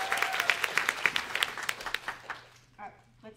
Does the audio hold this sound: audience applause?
yes